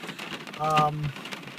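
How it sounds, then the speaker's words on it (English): Rain patters steadily on a car during a drive, with a brief tonal hum or voice-like sound in the middle; wiper blades sweep back and forth. "We got stuck in some rain."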